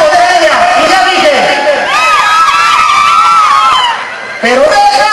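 Festival crowd at the Fiesta Patronal de la Villita cheering and shouting, with many voices whooping and calling out loudly and continuously, close and dense, dipping briefly near the end.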